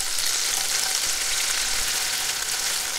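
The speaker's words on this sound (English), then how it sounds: "I'm gonna first fry the tofu." Tofu broken into pieces sizzles steadily in a frying pan for Japanese home cooking, a constant bright hiss with faint stirring movement and no voices.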